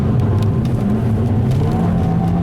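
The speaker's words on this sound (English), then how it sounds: "Get some wheel spin there." A front-wheel-drive car on a wet road, its engine droning loud and steady with a low rumbling whir as the tyres spin for grip, continuous and close throughout.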